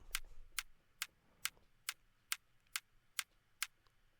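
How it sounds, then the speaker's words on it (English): A clicky top kick drum sample, thin and bright, ticking in a steady run of about nine sharp, quiet clicks over a faint low rumble. "And the other song use is this top kick."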